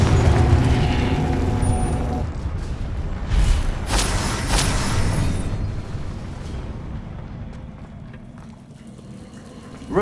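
The Confringo fire spell from Hogwarts Legacy bursts with a heavy, booming blast that rumbles and crackles, followed by a second burst before the sound tails off into a fading roar.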